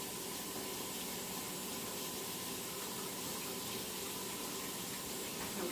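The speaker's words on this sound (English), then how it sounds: "I'm just going to rinse my spatula here." Tap water running while a spatula is rinsed in a kitchen sink: a steady, fairly quiet rushing hiss with no pauses.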